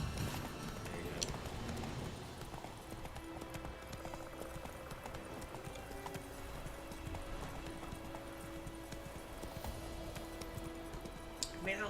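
A horse gallops at a steady rhythmic clip-clop in The Witcher 3, the hoofbeats continuous and close over game ambience and a faint musical tone, with no talk.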